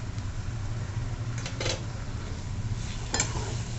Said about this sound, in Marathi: आता आपण तेल सुटेपर्यंत छान परतवून घेऊ